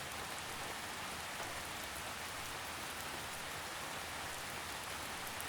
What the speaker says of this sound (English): The gentle drizzle patters on the roof above you.